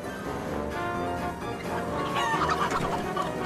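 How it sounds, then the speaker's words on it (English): Chickens in the video game Wallace & Gromit Episode 3: Muzzled! cluck and squawk nearby in a steady flock chatter, with one louder call rising toward the end. "Look at the chickens."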